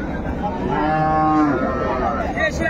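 A cow lows loudly nearby at a busy rural cattle market in Dinajpur alongside her calf, a long drawn moo over a murmuring crowd background.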